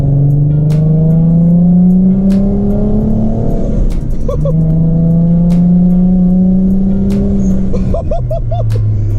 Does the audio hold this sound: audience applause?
no